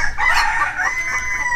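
A red mottled breeding-flock rooster crows loudly and close in one sustained call, with faint flock sounds beneath and no speech.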